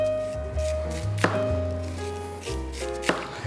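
A knife chops a peeled red onion into big chunks on a cutting board, with several sharp taps spaced unevenly, including two crisp standout strikes, over a low steady background hum.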